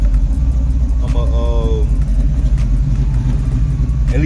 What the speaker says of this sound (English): This car been running, I know, almost 10 minutes